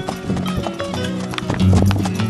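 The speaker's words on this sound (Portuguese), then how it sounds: "João Pedro desta vez preferiu correr com um cavalo que não tem linhagem tradicional na marcha." Horse hooves clip-clop in a brisk, steady rhythm close by, a gaited horse without traditional marcha bloodlines, with a sustained tonal hum running underneath.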